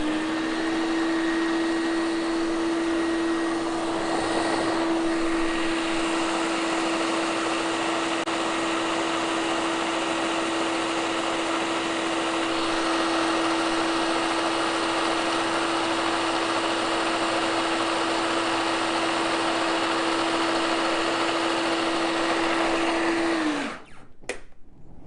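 A food processor whirls a pie crust mixture in one steady, loud motor drone for about 23 seconds, then stops abruptly.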